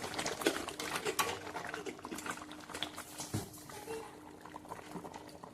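A pan of tilapia fish curry with chili powder simmers and bubbles in a steady, busy gurgle, heard close with some faint background noise.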